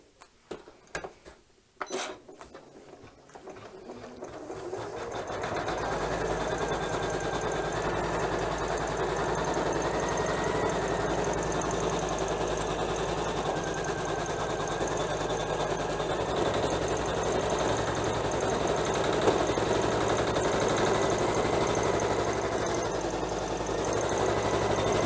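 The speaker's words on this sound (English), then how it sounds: "next up, I'm going to stitch the background of our first knockdown stitch. So I'm going to press start." A Janome embroidery machine stitches a knockdown background fill, starting with a few clicks and then running as a steady, fast mechanical hum for about twenty seconds, with no voices.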